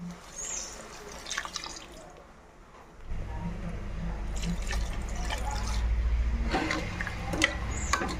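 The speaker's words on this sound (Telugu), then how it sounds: "ఇప్పుడు ఈ మటన్లోకి వాటర్ పోసుకుందామండి" Water pours steadily into a pot of mutton, a low rushing splash that starts partway through and continues loudly with some clinks and drips.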